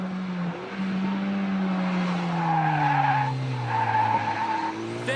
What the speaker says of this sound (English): Listen to the turbo engine suck and blow